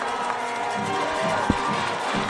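An unhappy home crowd at a Troopers varsity football game, a broad distant roar of displeasure with scattered shouts and one sharp clap.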